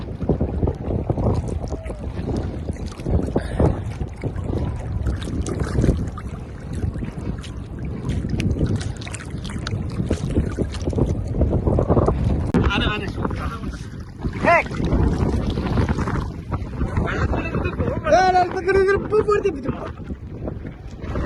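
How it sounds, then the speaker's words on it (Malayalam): Strong sea wind buffets the microphone on the Kuwait coast with a constant roar, while people talk and call out over it. "നല്ല കാറ്റുണ്ട് കേട്ടോ അവിടെ"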